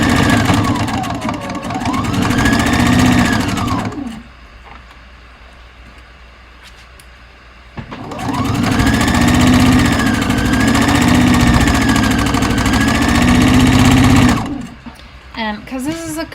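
A sewing machine stitches the circular seam of a fabric hat. The motor runs in two steady bursts of about four and six seconds with a quiet pause between, and its whine rises and falls slightly as the speed changes.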